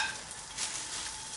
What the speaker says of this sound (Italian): Senti già come frigge?